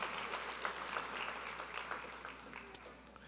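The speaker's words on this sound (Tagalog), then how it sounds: "pumalakpak nga kayo sa Panginoon" A congregation at a Sunday morning church service claps for the Lord, steady, fairly faint applause filling the room throughout, with some voices mixed in.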